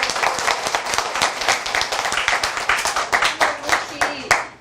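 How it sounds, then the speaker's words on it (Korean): Audience clapping at a political meeting with a Democratic Party supreme council member in Songpa, a dense burst of hand claps that carries steadily for several seconds with some louder individual claps and a hint of voices underneath. "박수드립니다."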